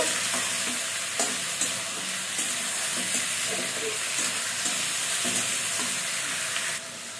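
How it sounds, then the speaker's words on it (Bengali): Cut potatoes with onion and green chili fry in hot oil in a pan, giving a constant close sizzle broken by repeated spoon-scraping clacks as they are stirred, with a brief drop in the hiss near the end. "কেটে রাখা আলুগুলো দিয়ে দেবো একসাথে, পেঁয়াজ কাঁচামরিচ। আলুটা ভালোভাবে ভেজে নেব।"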